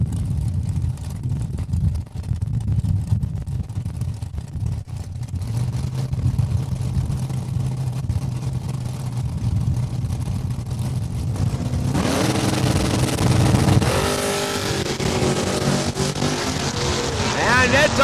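Drag race launch of a Camaro and a D100 truck at Saskatchewan International Raceway, a loud broadband engine roar that builds and surges sharply near the end, with wind noise and an announcer talking over it.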